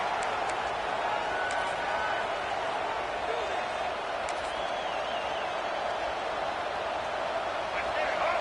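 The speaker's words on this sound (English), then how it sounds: "This crowd trying to do its part to get inside the kicker's head." Steady roar of a large stadium crowd at a college football game between USC and Notre Dame, loud and unbroken through a field goal try, with faint whistles and scattered shouts within it and a commentator talking over it.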